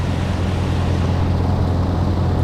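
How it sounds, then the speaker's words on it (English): Steady, loud jet roar of an F-18 flying close by in Microsoft Flight Simulator, a dense unbroken rumble heard alongside the drone of a P-38L Lightning's engines. "I've got an F-18 flying around me. I can't see them. I can hear them."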